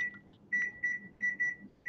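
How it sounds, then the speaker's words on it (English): A timer being set for fifteen minutes emits a quick series of short, high electronic beeps in an uneven rhythm, close and clear in a quiet room. "Okay, so 15-minute timer."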